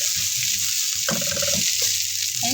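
Butter sizzling in a hot pan before ground pork and spinach go in, a steady bright frying hiss with clattering utensil sounds over it, close and loud.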